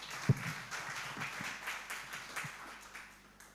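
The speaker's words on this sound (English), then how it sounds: "Can I request that we give Mr. Chiza a big round of applause?" An audience at a Uganda Forex Bureau & Money Remittance Association 25th anniversary celebration claps for Mr. Chiza, a scattered, fairly faint round of hand claps with irregular taps, one sharper clap near the start.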